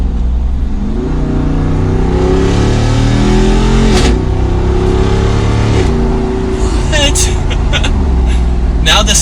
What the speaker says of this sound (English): we're going to downshift and listen to that V8.